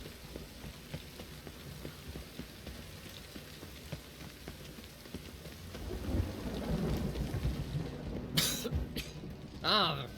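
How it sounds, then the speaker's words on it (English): Rain falls steadily during a thunderstorm in The Witcher 3: Wild Hunt, with thunder rumbling and building in the second half and a few sharp, louder crackles near the end. "The rain was coming. Felt it."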